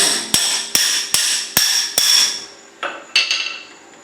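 A hammer strikes a locking wheel nut about eight times, in ringing metallic blows that come quickly at first, then after a short pause, each one close and loud.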